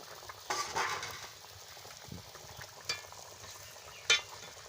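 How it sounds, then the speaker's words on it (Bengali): A Bengali fish curry (jhol) bubbles and sizzles faintly in a pot after the fish goes in, a low steady simmer broken by a few sharp clinks of a utensil. "এবারে টকবক করে ফুটছে, আমি মাছটা দিয়ে দিচ্ছি। মাছটা দিয়ে ভালো করে ফুটিয়ে নিচ্ছি।"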